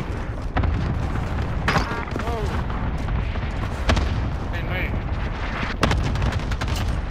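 Heavy booming cluster airstrike explosions in Call of Duty Cold War, several loud blasts spread across the clip over rumbling battle noise, with voices speaking.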